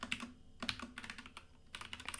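A cheap computer keyboard is typed on in quick, uneven bursts of close, crisp key clicks with a short pause midway, and no voices.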